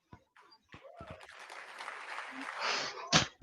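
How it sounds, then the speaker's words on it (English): Audience applause breaks out in a played segment from a Ben Shapiro talk, following a few short vocal sounds and swelling into a steady burst of clapping that peaks at the end. "They're applauding it."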